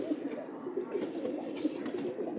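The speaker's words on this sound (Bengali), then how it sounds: "এটি হলো একটা খাকি নর, আরেকটা হলো জিরাগোলা ফিটকি মাদি কবুতর।" Khaki male and mottled female racing pigeons coo in repeated soft, rounded phrases close by, with a steady low murmur throughout and no talking.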